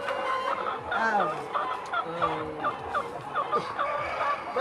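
Chickens cluck repeatedly at close range, a busy mix of overlapping clucks and warbling calls from several birds in a steady, uneven rhythm.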